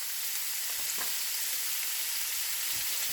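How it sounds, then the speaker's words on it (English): Zatarain's andouille sausage searing in a hot pot, a steady close broadband sizzle holding level throughout with no talking. "So we're going to sear that till it gets nice and golden brown."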